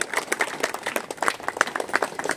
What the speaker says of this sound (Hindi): सम्मानित विधायक जी जोरदार तालियों के साथ अभिनंदन करेंगे।